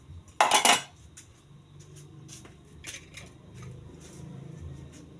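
A metal lid clatters sharply against a cooking pot of squash and string beans in one loud burst near the start, followed by softer scattered clinks and a low simmer.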